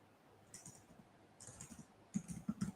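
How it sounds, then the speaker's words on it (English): Short burst of typing on a computer keyboard: a few soft scattered clicks, then a quicker cluster of louder, close taps near the end, with no speech. "Which I'm just trying to type and write at the same time."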